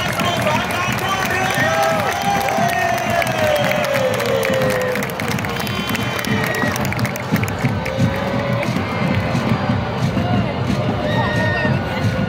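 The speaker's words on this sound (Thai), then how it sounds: "ขอเสียงปรบมือต้อนรับผู้เล่นสโมสรบุรีรัมย์" Stadium crowd at a Thai League match between Port FC and Buriram United, a loud, dense roar of cheering and clapping that holds steady throughout as players walk out, with shouts rising above the wash of sound.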